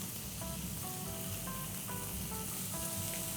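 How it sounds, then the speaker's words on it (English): Bavette steak sizzles and crackles steadily in a hot pan, a loud continuous frying hiss with no talking over it. "You ready for the sizzle?"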